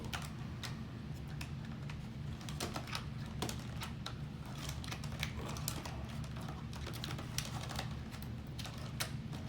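Plastic ties are worked loose from a package of DnD miniatures, giving a run of small, sharp, irregular clicks and ticks up close against a low background hum, with no talking.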